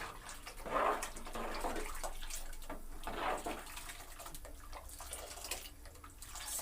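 Water is poured into a pot of lentil sambar, giving a splashing, gurgling pour that swells and eases in waves over several seconds, close by and with no talk.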